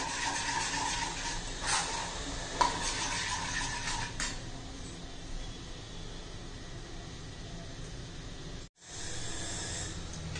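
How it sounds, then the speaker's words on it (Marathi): Batter for a fasting-style dahi vada is whisked in a bowl, a steady soft scraping and clinking with a few louder taps early on, then a brief drop-out near the end. "एखादा मिनिट तरी चांगलं असं फेटून घ्यायचंय"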